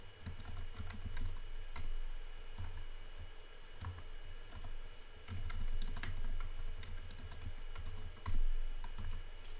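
Typing on a computer keyboard during a programming session, a close, steady patter of key clicks with irregular bursts and brief pauses, alone without speech.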